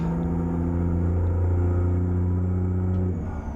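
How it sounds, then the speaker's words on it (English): A logging truck engine in American Truck Simulator holds a loud, steady, revving drone with strong low harmonics that sits high for a few seconds and then eases off slightly near the end, with no voices. "This engine likes to rev."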